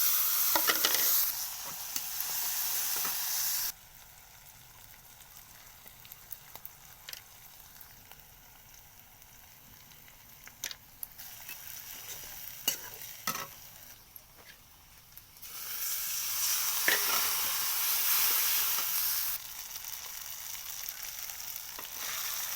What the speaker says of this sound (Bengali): তেল গরম হয়ে গেছে, দিয়ে দিচ্ছি ফুটন। গরম জলে ধুয়ে নিয়েছিলাম, দিয়ে দিচ্ছি শুটকি।